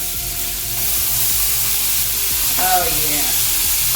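Sauerkraut sizzles loudly in a frying pan, a dense, close hiss with occasional stirring clinks, and a brief spoken remark partway through.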